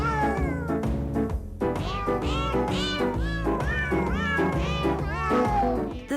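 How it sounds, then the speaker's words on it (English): Many cats' meows pitched at different ranges and tones, arranged to play a Christmas melody, forming a continuous, loud, musical run of sliding meows with a steady backing accompaniment. "The song features numerous cats meowing at different ranges and tones to recreate the Christmas melody."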